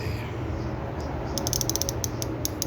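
Rapid clicks from an American-made ratchet wrench in short bursts, close and crisp, over a steady low background hum; no talking.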